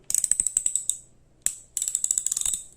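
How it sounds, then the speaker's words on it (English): A vintage Stanley socket set ratchet from set 86-918 clicking sharply as it is flipped back and forth, two quick runs of rapid metallic pawl clicks separated by a short pause and a single click. "Now, this ratchet, it flips back and forth."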